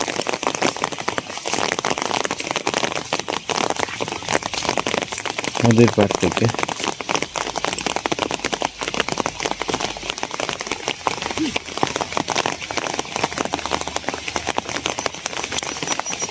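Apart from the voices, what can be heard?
rain falling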